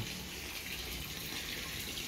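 Water running steadily from a tap or hose while a red tilapia tank is emptied and refilled on a farm, a constant faint rushing stream without any voices.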